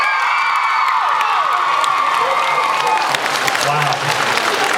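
Convention crowd at a Supernatural Comic Con panel bursting into loud applause mixed with cheers, whoops and shrill shouts, the noise swelling and staying busy for several seconds.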